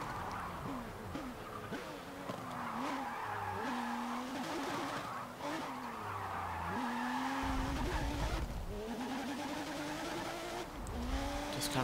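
A 1955 Porsche 550 Spyder in Forza Motorsport 7 accelerates through the lower gears, struggling for traction. The engine note rises and drops with each gear change, mixed with tire squeal, under a constant loud roar.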